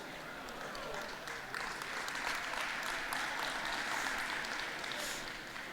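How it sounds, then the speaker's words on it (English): Audience applause at a social media panel event, a steady, even wash of many hands clapping for about six seconds, moderately distant and sustained without a break, with no voices over it. "guys, don't clap, this isn't complimentary."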